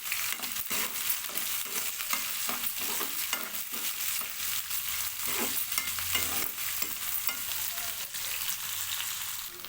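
Onions frying in a pan, stirred repeatedly until golden, while cooking a leafy greens dish. A soft, steady sizzle is punctuated by regular spatula scrapes, fairly quiet and without speech.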